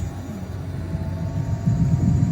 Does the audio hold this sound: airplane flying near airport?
yes